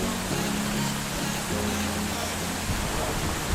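Heavy tropical rain pours during a thunderstorm on a volcano in Sumatra and drums onto a tarp overhead. A dense, constant hiss fills the air, with a faint low hum underneath and no pauses.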